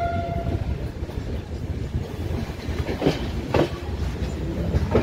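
The Vikramshila Express 12368 arriving at Kiul station, a steady rumble and clatter of rolling train wagons with a brief horn tone at the start and a few sharp metallic clanks near the end.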